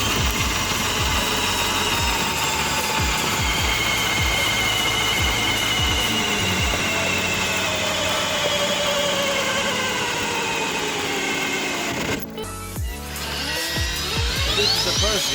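An ATV driven by Milwaukee power-tool motors in first gear whines loudly and steadily with a mechanical, drill-like tone, then briefly cuts out and starts up again near the end.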